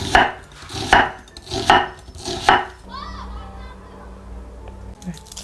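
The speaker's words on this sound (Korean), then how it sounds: "양파를 너무 얇지 않게 길쭉길쭉하게 썰어 주세요." Four steady knife strokes cut an onion into long, fairly thick strips on a cutting board, rhythmic and close, followed by a quieter stretch of faint rustling and a soft tonal hum.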